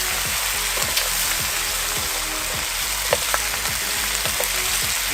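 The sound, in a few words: stirring pork pochero with pork and beans in a pot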